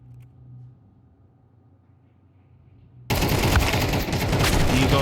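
Glock pistol spray and other gunfire on the Nuke map in a Counter-Strike esports match, a dense loud burst of rapid shots that starts abruptly after a quiet stretch of low hum and continues to the end.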